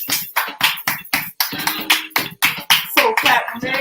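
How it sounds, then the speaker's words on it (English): Audience at a live birthday performance crawl clapping along in a steady rhythm, loud and close, with voices chanting over the claps. "So clap with me."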